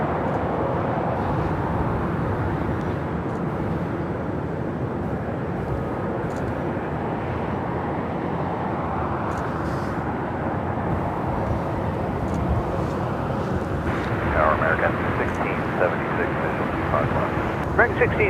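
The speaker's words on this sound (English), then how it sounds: "the Air China Cargo 777 trainer now rolling down" An Air China Cargo Boeing 777 trainer rolls down runway 25 right at LAX, a continuous broadband jet roar heard from a distance, steady with a slight rise near the end.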